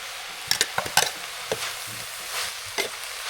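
Red chilies stir-fried in a hot pan for a spicy rat stir-fry, with a steady sizzle broken by several sharp spatula scrapes and clanks close by, and no talking.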